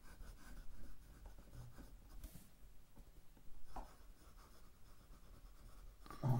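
A Montblanc Meisterstuck 149 fountain pen writes across paper in soft, quiet scratching strokes with brief pauses, close and faint, with a slightly louder knock near the end.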